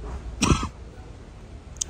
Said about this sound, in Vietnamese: Này mới này hơi ho các bạn ạ